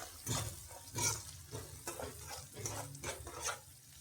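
Garam masala gets stirred into a frying mixture in a pan, with soft repeated scraping strokes over a faint sizzle, close and quiet.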